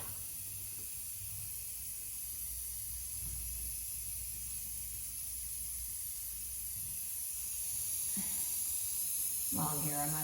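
Aerosol sealant sprayed over an acrylic pour painting, a steady close hiss running throughout with slight changes in intensity, while a person talks faintly underneath.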